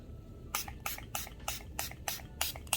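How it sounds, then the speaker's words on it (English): Aloe vera juice and rose water mix sprayed onto hair from a spray bottle: eight crisp, evenly spaced pumps of hissing mist, close and fairly quiet, each followed by a faint drip-like tick. "Just gonna spray them with this. This is aloe vera juice and rose water mix."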